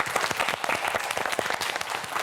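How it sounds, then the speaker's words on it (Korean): Studio audience on a Korean TV science quiz show applauding a student contestant, steady dense clapping throughout, moderately loud with no talk. "큰 박수 보내주세요."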